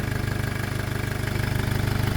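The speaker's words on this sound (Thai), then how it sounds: "ตอนนี้เครื่องยนต์กำลังเดินอยู่นะครับผม" An engine with water contamination idles with a steady, rapid low chugging pulse, close and even, with no voices.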